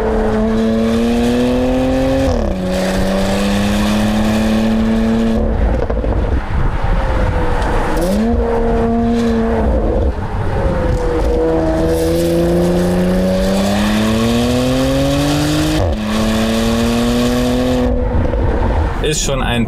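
A Porsche Macan Turbo SUV with all-wheel drive accelerates hard through repeated gear changes. The engine note climbs and drops between shifts under heavy wind and road noise from inside the cabin, while someone talks over it.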